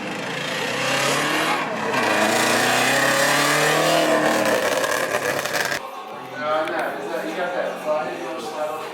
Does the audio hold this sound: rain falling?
no